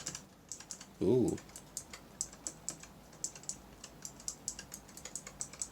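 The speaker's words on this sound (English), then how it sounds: "This has got a pretty nice click to it." Keys on a Razer Huntsman Elite keyboard click in a quick irregular run of sharp, close taps, with one brief spoken exclamation early on.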